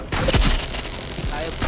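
Shotgun blasts and a short burst of gunfire from a video game, loud and close, with a steady noisy background.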